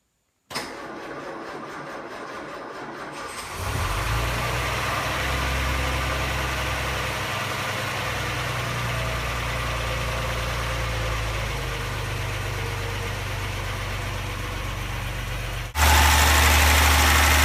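A 1958 Wolseley 690 car starts from cold inside a garage, cranking briefly, then settling into a steady, loud idle with a low, even rumble that continues to the end.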